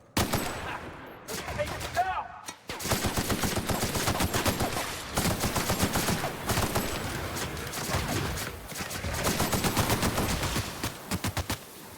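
Rapid automatic weapon fire from a video game rattles in long dense bursts with brief gaps, loud and close, with occasional talk underneath.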